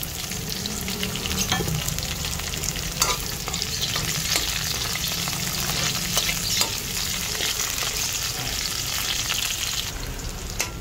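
Garlic and onion sautéing in a pan, a loud continuous sizzle with a steady run of scraping stirs close by, no voices.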